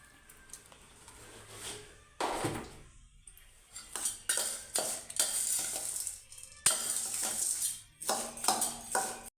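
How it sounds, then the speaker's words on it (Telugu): Seeds tossed with chili powder and salt are stirred in a metal pan, giving bursts of scraping, rattling clatter in uneven strokes with short quiet gaps between, fairly close and moderately loud. "మనం వేసిన కారము ఉప్పు అదంతా గింజలకు పట్టిందాక కలుపుకుందాం"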